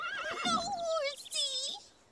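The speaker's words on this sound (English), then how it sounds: "Lucky is a nice horse." A cartoon horse named Lucky whinnies twice in a row, a loud, close, quavering neigh that rises and falls, with the second call shorter and ending softly.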